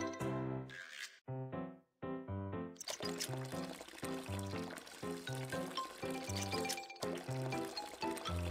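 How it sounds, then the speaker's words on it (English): Water pouring and splashing as seaweed is washed in a BabyBus cooking game, with a running liquid sound under bright, constant game music and chiming tones. "First, we need to wash the seaweed clean."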